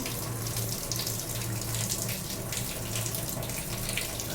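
Starchy water from a pot of boiled rice pours steadily into a sink, a continuous splashing gush with no break, close and fairly loud throughout.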